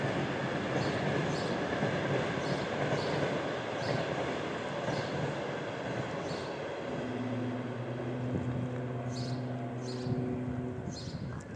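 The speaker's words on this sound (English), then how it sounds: "And the train is coming." A train passes near a garbage can where a family of white cats is fed, its steady rumble and rolling rail noise filling the scene at moderate distance, with a faint sustained squeal appearing toward the end.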